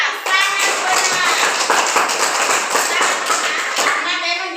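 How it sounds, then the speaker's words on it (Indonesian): Children in a classroom clap their hands together in a brisk, dense round of applause lasting several seconds, fairly close and loud, with light voices mixed in. "tepuk tangan untuk Lendra"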